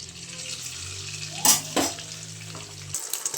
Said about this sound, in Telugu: పెనంలో ఆయిల్ వేసుకొని దాన్ని హీట్ అయిన తర్వాత చిన్న చిన్న ఆమ్లెట్స్ అనేది వేసుకోవాలి